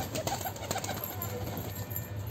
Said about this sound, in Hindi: हमारे कबूतर जो थे सारे के सारे बाहर आ गए